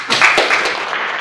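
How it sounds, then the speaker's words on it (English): An audience at a Strathmore University forex school tour event applauds a speaker being welcomed: a dense, steady patter of clapping held at an even level for about a second, with faint voices mixed in. "Let's applaud him."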